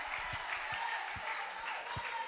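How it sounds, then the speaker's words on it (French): A church congregation applauds for Bishop Emmanuel in a hall, with a dense, steady clapping wash heard from a moderate distance for a couple of seconds. "acclamez pour le Bishop Emmanuel"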